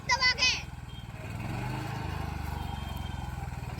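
Swaraj tractor engine runs with a close, rhythmic diesel chug while children shift gears, the thumping pulse steady and slightly rising. A voice is heard briefly at the start.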